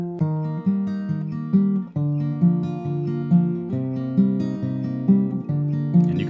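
A fingerstyle acoustic guitar plays Travis-style picking of a song with the thumb only, an even, close pattern of alternating bass notes repeating under ringing chords, with no voice.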